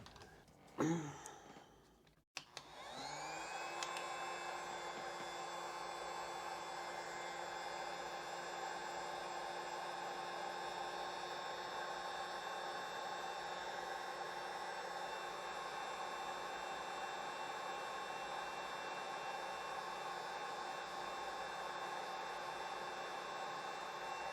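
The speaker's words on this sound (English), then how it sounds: "Hit it with some heat and it should shrink down." A heat gun shrinking tubing on a 48V LiFePO4 battery build clicks on after a few handling noises, then blows a steady whirring hum for the rest of the clip.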